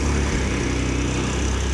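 V6 engine of a small muscle truck running after startup, a loud, steady rumbling idle with a fast pulsing beat, close and without voices over it.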